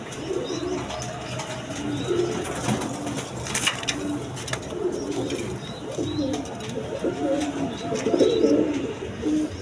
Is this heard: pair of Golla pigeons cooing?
yes